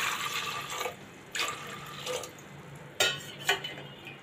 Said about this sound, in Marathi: आता याच्यामध्ये पाणी घालायचं आहे, चणे भिजतील इथपर्यंत पाणी घालायचं आहे